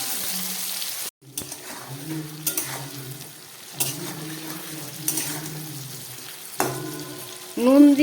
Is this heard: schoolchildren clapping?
no